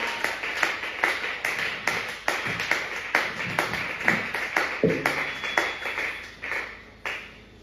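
A church congregation clapping in a fast, steady rhythm praising God, many hands together at close range with a brief cheer, continuing without talk for several seconds.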